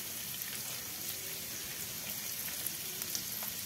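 A medium chopped onion frying in a spoonful of oil in a pan, a steady dense sizzle with faint crackles throughout, soft and close, no voices.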